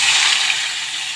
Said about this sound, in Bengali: মাছ ভাজা তুলে নিয়েছি, এবার এই তেলের মধ্যে দিয়ে দেবো পেঁয়াজ।